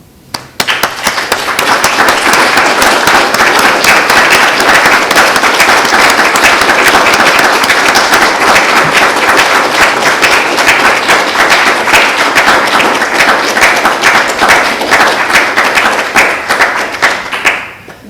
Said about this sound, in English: Rodger, I know that you're not comfortable with hearing applause